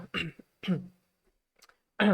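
A few short throat-clearing coughs in quick bursts, close by, with a voice starting up briefly at the end.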